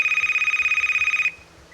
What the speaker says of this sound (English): The hacker phone. It's ringing.